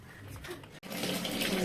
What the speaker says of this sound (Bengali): ছোটুর এখন স্নানের জল রেডি হচ্ছে